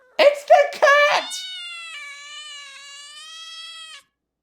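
A cat in a video game gives a few short meows, then a long drawn-out wailing yowl that holds steady for several seconds before cutting off cleanly.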